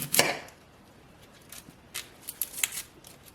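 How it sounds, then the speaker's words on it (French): An onion and a garlic clove are peeled by hand, giving a scattering of close, crisp papery rustles and small snaps, louder at first, then fainter and sparser. "Je vais commencer par éplucher donc mon oignon ainsi que la gousse d'ail."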